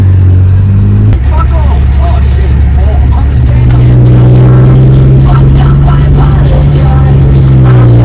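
A car driving through Sydney's eastern suburbs near East Gardens on a sunny day, with a steady low engine and road hum running loudly throughout and a brief shift in tone early on.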